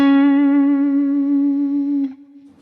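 Electric guitar played through a stock amp model on a Neural DSP Quad Cortex: one sustained, rich harmonic note ringing loudly for two seconds before being cut off, leaving a faint decaying tail.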